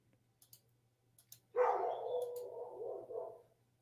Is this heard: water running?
no